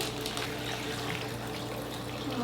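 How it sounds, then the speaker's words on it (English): Water is poured into a blender jar holding frozen banana, peaches and dragon fruit for a smoothie. It makes a soft, steady trickling and splashing, faint and unbroken, with no voices. "I'll fill it up about halfway with water."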